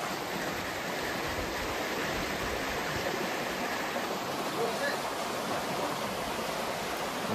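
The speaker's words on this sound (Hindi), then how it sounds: "एकदम बहता हुआ नदी है।" River water flowing steadily near Tung Tao resort in Chowkham, Namsai, Arunachal Pradesh, a continuous broadband rushing that stays even and close throughout, with no voices.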